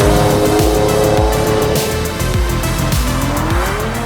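A Ferrari F40 cruises along a city road, its engine a loud, steady drone with repeated gear-like swells and a raspy exhaust note throughout, no talking.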